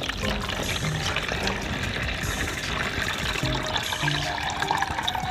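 Lactobacillus culture liquid pours steadily and splashes through a sieve, a continuous watery gush with some clinks, close and fairly loud.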